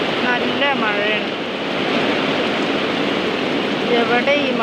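A steady, loud roar of heavy rain falls around a house, a dense broadband wash with a voice speaking briefly at the start and again near the end.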